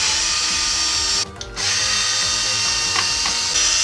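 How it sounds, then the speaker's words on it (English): Screws are backed out of an HP Omen 25 desktop PC with a powered driver, a loud, close, continuous whirring ratchet that cuts out briefly once before running again. "so we just need to remove those screws"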